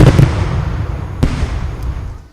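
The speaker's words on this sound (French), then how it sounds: "Avec les feux d'artifice, il y aura une explosion de bêtises dans quelques instants" A short fireworks sound effect inside a French radio jingle: a loud crackling burst opening the clip, a sharp pop near the middle, then a fading tail of sparkle.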